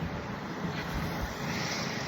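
Steady strong wind in a park roars and buffets against the microphone, a broad, continuous rushing noise with no voices.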